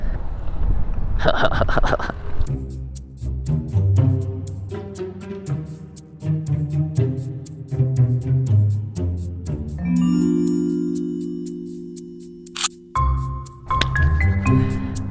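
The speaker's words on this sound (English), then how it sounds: "let me go test ride this and let you know my first thoughts on the 2023 Surron X" A brand-new 2023 Surron X electric dirt bike with a 38 amp-hour battery is ridden on its first run, giving a faint whine under wind rush and the rattle of the ride, with a rising and falling electric drone partway through.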